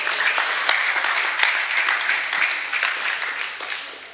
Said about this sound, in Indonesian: Tepuk tangan untuk Briana.